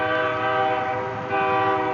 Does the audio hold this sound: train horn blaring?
yes